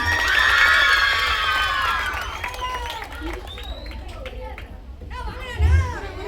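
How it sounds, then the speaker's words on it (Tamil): At a children's vacation Bible school event, a crowd of kids and adults cheers and claps loudly, then the noise fades into scattered shouts and chatter with voices talking over it. "நல்லா கைத்தட்டல் கொடுத்துடலாமா?"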